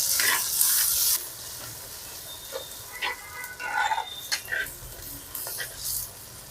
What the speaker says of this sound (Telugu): కొంచెం అయితే పుదీనా వేస్తున్నాను టమాటాలు వేగేటప్పుడు